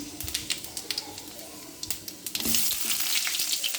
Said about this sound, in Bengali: এখন আমি ডালটা বাগার দিয়ে দেব। দিয়ে দিলাম 2টা শুকনো মরিচ, আর দিয়ে দিব ডালের জন্য 5 ফোড়ন